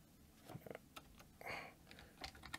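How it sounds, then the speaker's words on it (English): Someone typing a name on a computer keyboard: a short, irregular run of quiet, close key clicks with brief pauses, and no talk. "let me type his name."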